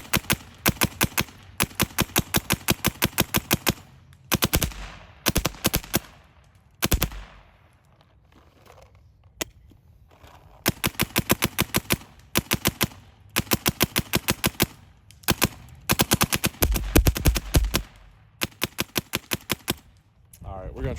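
A Shocker Era paintball marker with a mech frame and new trigger fires in rapid bursts, dense rattling volleys of shots broken by short pauses and a few single pops, loud and close throughout.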